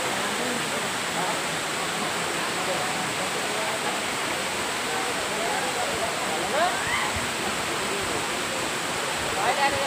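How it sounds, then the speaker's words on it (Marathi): Dalki waterfall at Godri Ghat roars as a dense, unbroken rush of falling water close by, steady and loud throughout, with faint voices barely rising above it. "बघा मित्रांनो, तुम्ही धबधबा पाहू शकता."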